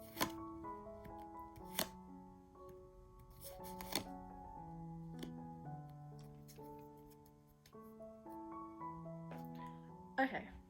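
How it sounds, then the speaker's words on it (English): Soft riffling and tapping of tarot cards being shuffled by hand, with intermittent sharp clacks, set under steady background music at low level. "So I'm just gonna shuffle,"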